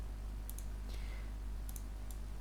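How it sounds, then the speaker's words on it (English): Computer mouse clicks, a few crisp, faint double clicks spaced apart over a low steady hum, with no talking. "Just right click on it and unload it, then double click on this skin and then click on install"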